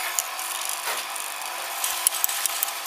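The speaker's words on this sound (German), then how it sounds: "Schleifscheibe runterziehen, Kette wird automatisch gespannt." A SuperJolly chain sharpener works a saw chain in stepped passes, with the grinding disc pulled down onto the automatically tensioned chain teeth. Steady gritty rasping runs throughout at moderate level, marked by a few brief sharper contacts toward the end.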